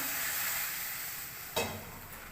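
Cumin and coriander powder frying in a pan give a steady close sizzle, with a sharper hiss flaring up as water is poured in partway through.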